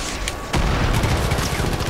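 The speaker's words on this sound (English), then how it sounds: "It's a mortar fire? They really have mortars?" Mortar fire in the video game Far Cry 5: a sudden heavy boom cuts in and leaves a dense, sustained roar of rumbling blasts and crackling gunfire.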